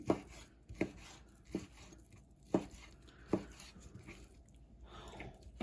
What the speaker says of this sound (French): on la coupe en petits dés, hein, vous voyez